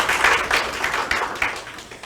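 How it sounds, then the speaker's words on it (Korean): Audience at a resource-recycling symposium in Jeju gives a short round of applause, a moderate burst of clapping from a seated hall that fades within a couple of seconds. "다시 한번 큰 박수 부탁드립니다."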